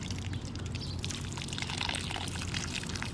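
Water poured steadily to water houseplants, a close, continuous splashing stream without pauses and no talking.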